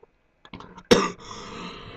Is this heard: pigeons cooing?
no